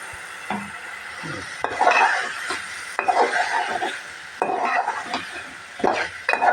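Potatoes, green chilies and tomatoes stir-fried together in a pan, with repeated scraping and clattering of a spoon over a moderate sizzle, in uneven bursts.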